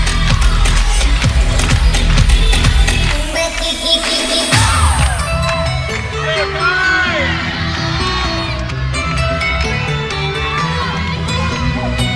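Crowd cheering sections at a PAC-12 gymnastics championship floor routine, a steady roar of whoops and shouts under music, swelling briefly before settling into a continuous bed of applause and yelling.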